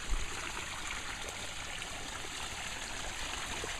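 Water pours steadily over Molly Falls, a broad, constant rushing and splashing that fills the scene without breaks, heard up close and fairly loud with no voices.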